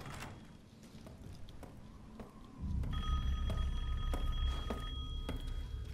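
An old-style telephone bell rings in repeated bursts inside the video game Resident Evil Village, fairly faint over a low ambient rumble, with no talking.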